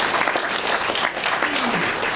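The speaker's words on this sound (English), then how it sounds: "So a hand of applause for the team that put this together." An audience at a Boston ward Democrats' candidate forum gives a steady, dense round of applause for the organizing team, with a voice faintly heard beneath the clapping.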